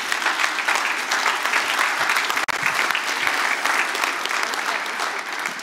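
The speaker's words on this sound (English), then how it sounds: "let's applaud these people" Sustained, dense applause from an audience gathered to honour the people involved in a building's construction, loud and steady throughout apart from a momentary cut midway.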